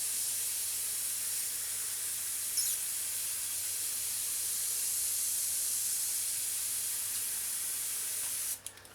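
An airbrush sprays paint onto a 1/32 scale Messerschmitt Bf 109E-3 model kit, giving a steady, close hiss that runs unbroken for about eight seconds before cutting off abruptly near the end.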